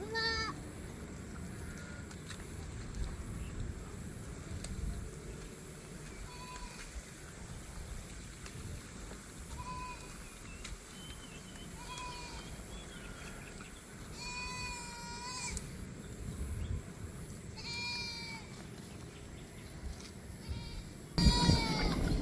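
Goats bleat repeatedly at close range, several wavering calls spread throughout, over a steady murmur of background noise.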